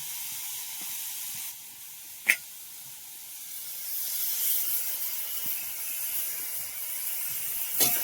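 Foraged forest mushrooms drop into a hot pan in a village kitchen, setting off a steady, moderate hiss of sizzling that holds on after a couple of sharp clicks, with no talking.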